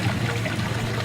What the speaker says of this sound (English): you have the tranquility of water running down the stone and also the sound of the water